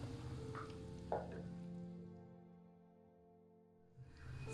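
Garlic and onion frying in a pan for chicken chow mein, giving a steady soft sizzle under a low background hum, with a faint clink or two of stirring.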